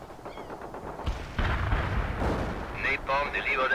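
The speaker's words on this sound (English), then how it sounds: "Is that launcher ready? Then fire!" Rocket launcher fire in the real-time strategy game World in Conflict, with a heavy booming launch followed by rumbling blasts and sharp electronic warbling effects, mixed under game voice chatter.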